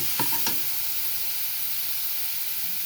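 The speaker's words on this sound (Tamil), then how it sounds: "போட்டு நல்லா அந்த பச்சை வாசனை போகிற அளவுக்கு நல்லா வதக்கிடுங்க" Ginger and garlic sautéing in hot oil in a pan, a steady close sizzle throughout with two brief scraping stirs near the start.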